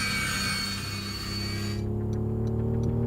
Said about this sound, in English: When I let go of the accelerator, it just goes like an airplane.